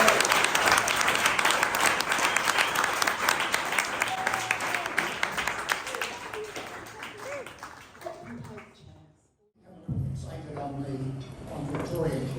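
An audience at a performing arts talk in Fremantle claps steadily for several seconds, the applause thinning and dying away before a brief pause; talking picks up again right after.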